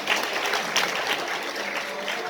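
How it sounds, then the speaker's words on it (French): A crowd applauds at a 2019 INJAZ Al-Maghrib regional student competition in Tangier, Morocco, with a thick, even wash of clapping hands that holds steady throughout. "Vous pouvez applaudir, hein?"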